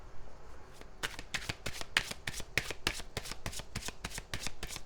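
Tarot cards are shuffled close by in a quiet room, giving a soft, steady run of crisp riffling flicks with no voices.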